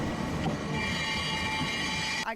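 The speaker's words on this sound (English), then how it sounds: "People enjoy riding Angel's Flight Railway each and every day, even though it only takes them a short distance." Angels Flight funicular railway car in Los Angeles runs with a steady metallic rail hum and faint wheel squeal, loud and continuous for a couple of seconds before stopping abruptly.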